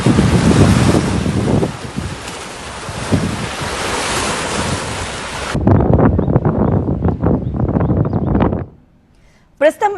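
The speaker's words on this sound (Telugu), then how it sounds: "కనువిందు చేస్తోంది బొగతా జలపాతం" Bogatha waterfall in Telangana pours with a loud, steady roar of rushing water for about five seconds, then turns choppier and gustier with wind buffeting before it drops away near the end.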